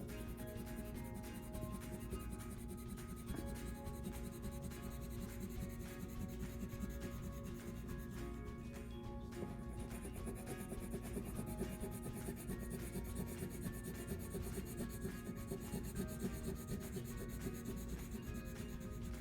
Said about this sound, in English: Get out my blue crayon. And now I'm going to color in my two blue sections.